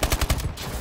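Rapid bursts of video game gunfire, loud and close, with several sharp shots in quick rhythm at the start and trailing off toward the end.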